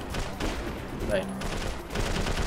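Rapid bursts of gunfire in the video game Prototype 2, loud overlapping shots in a choppy, irregular rhythm with a brief whooshing sweep in the middle.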